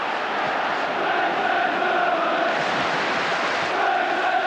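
A packed football stadium crowd roars continuously at a UEFA Champions League night match, Manchester United against FC Barcelona in 1994, a dense, loud, unbroken wall of cheering and chanting with no clear individual voices.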